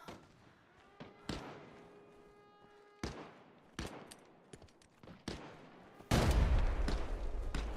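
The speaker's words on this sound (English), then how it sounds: "Hell of a nade." Video game grenade play: sharp gunshot-like bangs at irregular intervals, then a loud, sustained blast rolling into a broad roar near the end.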